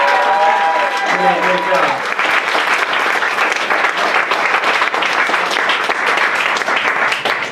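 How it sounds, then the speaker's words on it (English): Loud, dense applause from a comedy-show audience fills the room steadily throughout, with a brief voice speaking over the opening moments. "Please give a big round of applause."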